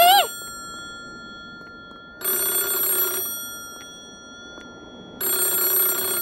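A telephone rings in the video game 2番線 (Nibansen), two long electronic ring bursts separated by a pause, clear and fairly loud, with faint voice sounds at the start.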